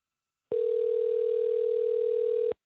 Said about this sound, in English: we take the line off hook. You hear the dial tone, hopefully.